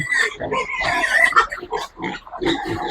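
Pigs at feeding time squeal, grunt and oink in a close, busy chorus, with overlapping loud cries in irregular bursts and no talking.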